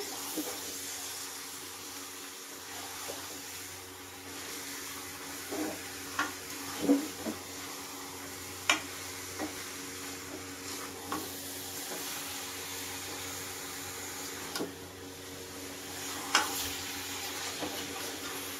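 Chicken sizzles in a pan as it is fried and stirred, a soft continuous hiss broken by occasional scrapes and clanks of the spoon, close but fairly quiet.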